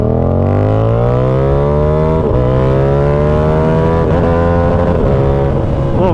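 Yamaha R7 motorcycle accelerating hard toward top speed, its engine note climbing steadily through the gears with brief dips at shifts, loud and close over constant wind roar.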